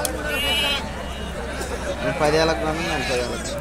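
Sheep bleat a few times close by over a busy background of crowd chatter and voices talking at the Nallapadu sheep and goat market in Guntur.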